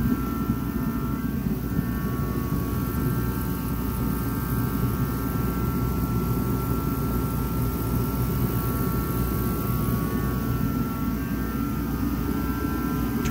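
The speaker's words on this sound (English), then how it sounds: "Heater will start after highest setting is set." A Craftsman portable heater running at its highest setting, giving a loud, steady, roaring blower drone with a constant low rumble and an even hum that carries on unchanged, with no talking.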